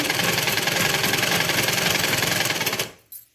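A sewing machine stitching around the edges of a fabric cover made from old material, with a loud, rapid, steady mechanical chatter that runs for nearly three seconds before stopping abruptly.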